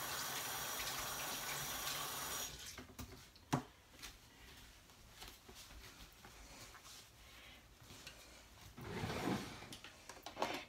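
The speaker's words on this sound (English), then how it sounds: "let me just rinse my hands off" A kitchen tap runs in a brief, soft gush as hands are rinsed, then shuts off after about two seconds. A few quiet clunks and splashes follow in a faint, still room.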